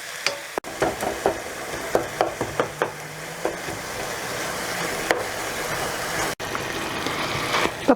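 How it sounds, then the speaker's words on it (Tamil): Minced mutton keema with cabbage sautéing and sizzling in a pan, with steady frying hiss and repeated scraping stirs of a spatula close by, and no talk. "நல்லா வதங்கட்டும்."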